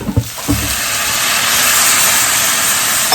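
Water hits a hot pan of potatoes and bursts into a loud, sustained steam hiss that holds steady after a couple of sharp initial spits, close and alone.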